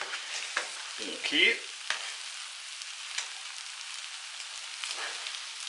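Food frying in a pan outdoors, a steady close hiss and crackle with a few stirring clicks, and a brief spoken word partway through.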